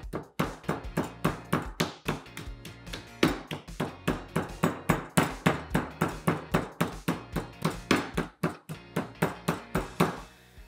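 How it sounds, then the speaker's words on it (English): A boneless chicken breast under plastic film is pounded flat with a steady run of sharp, evenly spaced thuds, about three blows a second, close and loud with no talking. "we're gonna make it so that all of it cooks evenly by pounding it to about a third of an inch"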